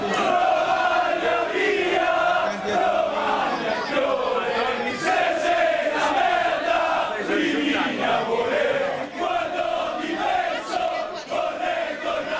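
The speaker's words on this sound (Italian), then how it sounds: "arriva dai tifosi biancorossi la canzoncina in omaggio ai tanti odiati cesenati" Rimini supporters in a football stadium sing a mocking chant aimed at Cesena fans, a loud, sustained crowd chorus filling the whole stretch without pause.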